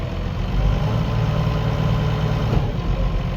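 A tractor engine idles at close range on a muddy cattle-feeding site, a steady low rumble with an even drone and no other sounds.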